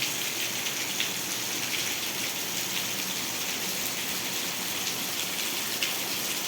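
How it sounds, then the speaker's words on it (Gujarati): Heavy rain pours down steadily at night in a village in Ranpur taluka, Botad district, Gujarat, with wind and lightning, a continuous hiss with scattered drops and splashes, no voices present. "વરસાદ અત્યારે ચાલુ છે"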